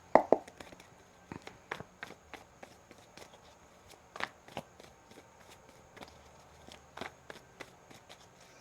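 Soft, scattered taps and light flicks of tarot cards being shuffled and handled, close and quiet, with irregular pauses between them.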